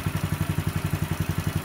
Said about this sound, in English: I've left the bike idling for about 2 or 3 minutes, and it seems to be doing just fine